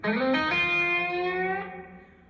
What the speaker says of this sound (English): Now we're just hearing the Mercury7.